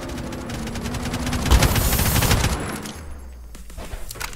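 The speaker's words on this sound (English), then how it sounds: "Stop shooting at me." Rapid bursts of gunfire in the Roblox game Jailbreak, a dense loud volley that peaks mid-clip and then thins into scattered shots with a steady low hum underneath.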